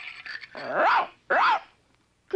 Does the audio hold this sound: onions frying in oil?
no